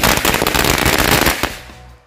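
A Betawi firecracker (mercon Betawi) bursts in a loud, rapid crackling volley of pops lasting about a second and a half, then cuts off abruptly, with a faint tail afterward.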